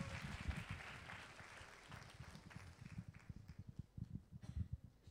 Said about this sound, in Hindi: हरी तालियों के साथ प्रभु दास को स्वागत करते हैं।